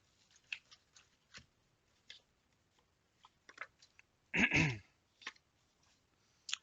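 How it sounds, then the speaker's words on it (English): One rough throaty cough stands out, loud and close, amid scattered small snips, taps and rustles from crafting work on a table. "I do apologise for my coughing today."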